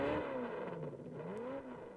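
An Alfa Romeo 158, a pre-war racing car, drones and revs briefly, its engine pitch sliding down then rising again before fading, moderately loud with a faint mechanical whir.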